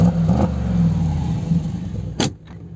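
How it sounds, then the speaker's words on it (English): Brabus-modified Mercedes G-Wagon exhaust rumbling loud and close, holding a deep steady growl that swells briefly before a sharp burst near the end and a cut-off. "that is the exhaust, see, and you know this car is having so much aggressive voice"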